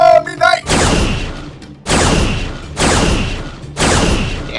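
Spacecraft guns fire at a hovercraft in four loud, sharp blasts spaced about a second apart, each with a long roaring decay, and a short electronic warble comes before the first.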